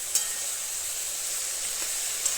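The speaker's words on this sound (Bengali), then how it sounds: "ধনে জিরে আর শুকনো লঙ্কা এর সাথে দিয়ে দেবো, তাহলে ভাজা ভাজা হয়ে যাবে।" Coriander, cumin and dried chillies frying in hot oil, giving a steady, close sizzle with a couple of brief sharp crackles and no voices.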